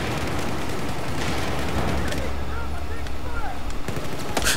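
Rapid Battlefield 4 multiplayer gunfire crackles densely and continuously throughout, loud and close with bursts of automatic fire, overlapping distant shots and a faint voice underneath.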